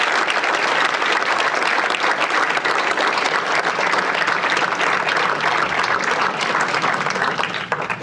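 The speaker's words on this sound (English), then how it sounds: "can we give her a round of applause as well?" Sustained, dense audience applause fills the room at the swearing-in of Omaha mayor John Ewing Jr., steady and loud throughout with no speech over it.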